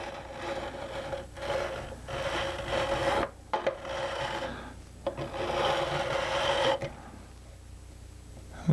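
Sharp metal fret ends on a G&L Tribute electric guitar being filed, a steady close rasping stroke repeated in several long passes with short breaks, alone and without talk.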